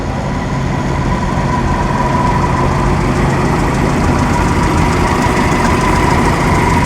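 A Lincoln car idles at the 2013 Pebble Beach Concours, its engine making a loud, close, steady rumble that runs unbroken throughout with no talk.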